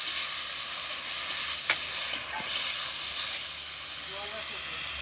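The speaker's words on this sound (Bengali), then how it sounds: "এবারে আমরা কেটে রাখা ঢ্যাঁড়সটা তেলে দিয়ে দিলাম।" Okra and hog plum frying in hot oil, a steady loud sizzle with occasional stirring clatters and sharp spatters, close up, no talking.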